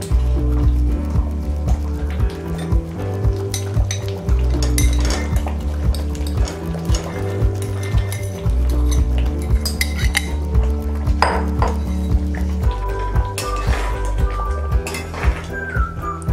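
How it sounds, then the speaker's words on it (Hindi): Paneer goes into a pan of smooth shahi paneer gravy and is stirred in, with repeated metallic clinks and scrapes of a spoon against the pan, close and steady throughout, no talking. "अब हम इसमें अपना पनीर डालेंगे"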